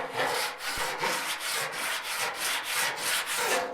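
A metal body file rasps back and forth across a 1956 Chevy fender in steady, rhythmic strokes, about three a second. The scraping is close and loud and there is no talking.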